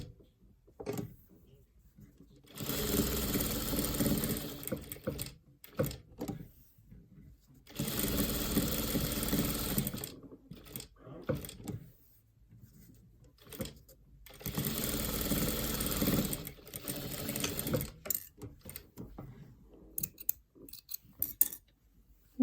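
Sewing machine stitching patchwork blocks in three separate bursts of close, steady whirring, each several seconds long, with quiet gaps between them filled by small handling noises.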